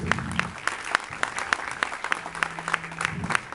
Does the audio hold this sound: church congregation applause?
yes